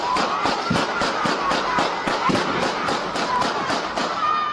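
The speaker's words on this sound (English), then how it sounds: "the videos do include sounds of gunfire" Rapid bursts of gunfire crackle at a shooting scene near Thomas Square in Honolulu, a dense run of sharp repeated pops at a steady quick rhythm filling the whole stretch, fairly loud and sustained.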